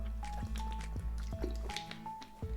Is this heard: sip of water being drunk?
yes